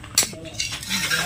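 Cutlery scraping and clinking against dishes as Bengali rohu fish curry is served piece by piece onto plates, with a few sharp close clinks over a short stretch.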